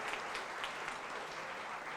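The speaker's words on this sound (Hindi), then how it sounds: "हमारे पूज्य स्वामी जी के लिए एक बार जोरदार तालियां बजाइए।" An audience at a Vedanta meditation gathering gives Swami ji a steady round of clapping, dense and even, heard at a moderate distance with no voices over it.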